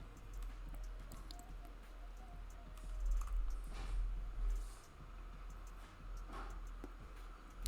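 Typing on a computer keyboard while installing a WordPress weather plugin, a soft, steady patter of close key taps over a low background hum, with no voices.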